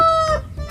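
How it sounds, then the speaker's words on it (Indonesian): A rooster crows once in a brief, bright, tonal burst, close and clear, with no voices over it. "Wih, yang ini ada ayam. Ayam berkokok."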